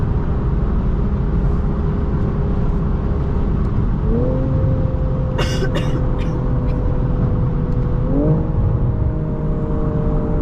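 A BMW M340i engine drones steadily from inside the car, its pitch stepping up twice as the revs rise during a downshift, with a few brief clicks in between.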